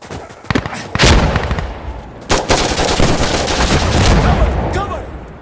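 A .50 cal rifle firing in the video game Insurgency Sandstorm, loud booming shots with bursts of gunfire and echoing tails, with brief voices in the background.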